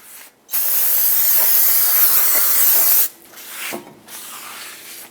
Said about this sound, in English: So take brake parts cleaner and a clean rag. Spray this down.